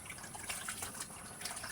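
Water running from a tap while something is rinsed beneath it, a steady, quiet splashing flow with no talk.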